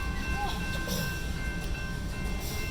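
A CSX freight train with two locomotives and a distributed power unit rolls past close by, a steady low rumble of wheels and cars continuing without break.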